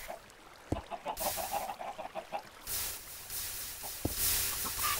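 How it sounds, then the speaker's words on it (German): Minecraft chickens give short clucks in an irregular run, moderately loud, with game sounds and noise bursts in between. "Oh, diese dummen Hühner"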